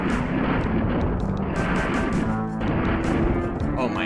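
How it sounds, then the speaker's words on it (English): Rapid bursts of plasma gun fire from SNES DOOM crackle loudly and continuously, with a dense stream of shots and impacts filling the whole moment amid game noise. "Oh my god, the plasma gun is so strong."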